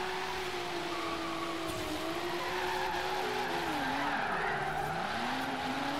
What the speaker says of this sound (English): I'm understeering. My bad, Minty.